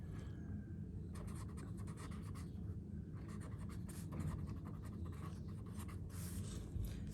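A pen scratches steadily across paper while a penalty amount is written by hand, close and soft, with continuous strokes over a low background hum and no talking.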